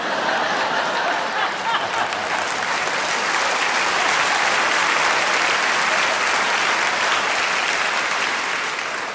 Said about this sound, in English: y'all don't have to applaud for everything